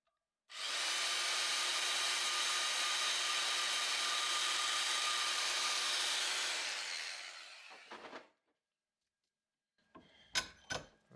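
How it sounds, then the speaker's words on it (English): A bandsaw cuts through a steel bolt during a Toyota Corolla lift kit job, a loud steady grinding whine lasting several seconds before winding down, followed by a few short metallic clinks. "So I'm just gonna chop this guy here with the bandsaw."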